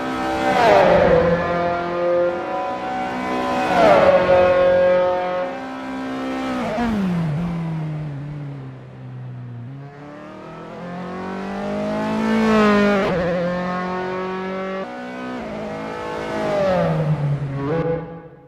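Dallara F312 race car engines howling around Rattlesnake Point in Assetto Corsa, repeatedly revving high through the gears, dropping on downshifts and surging again, loud and close throughout.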